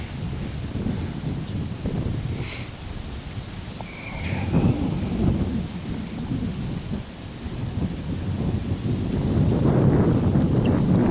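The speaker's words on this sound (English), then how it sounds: "it's not even that bad if the wind wasn't blowing. That wind is cold." Cold wind gusts steadily outdoors at a hunting spot, with a broad rushing roar that swells toward the end and no talking.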